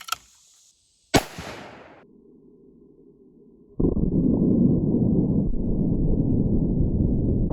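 A civilian 6.5 Creedmoor rifle fires one loud, sharp shot outdoors. The crack is followed by a ringing decay that fades over a second, then a steady broadband rush of noise takes over.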